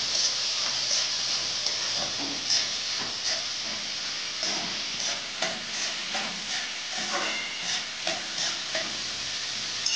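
Onion sizzles and hisses as it fries in a pan over a gas flame turned up fairly high, with occasional stirring scrapes over a steady frying crackle.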